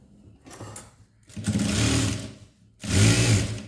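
A sewing machine stitching the front panel of a blouse runs in three bursts, a short soft one and then two longer, louder runs with a brief pause between them, close by and with no voices.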